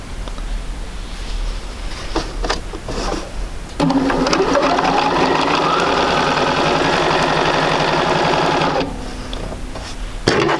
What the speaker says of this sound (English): We're just going to sew this at 1/4 inch